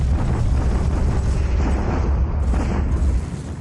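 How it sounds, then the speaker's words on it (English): A Japanese bombardment attack in the naval video game War Plan Orange, heard as a continuous loud, rumbling barrage of heavy explosions and booms that fades slightly at the end. "Japanese bombardment attack."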